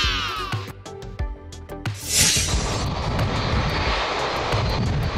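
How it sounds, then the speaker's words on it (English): Airbus A330-300 wide-body jet engines roar loud and steady, a broad sustained rush that builds after a few sharp knocks at the start, with no talk. "This is Airbus A330-300."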